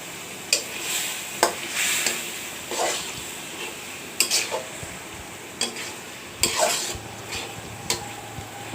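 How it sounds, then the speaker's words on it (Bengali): Spiced fish frying and being stirred in a pan: a low sizzle runs underneath while sharp scraping and tapping strokes of the spatula come at irregular intervals, close and fairly quiet. "এখন ভাজা ভাজা করে নামিয়ে ফেলবো"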